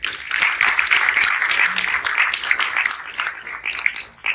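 Audience applause at the close of a conference talk, a steady patter of many hands clapping at moderate loudness, slightly distant, with a faint voice briefly underneath.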